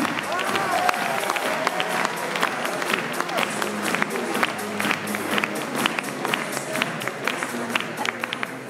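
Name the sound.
audience applause at a political rally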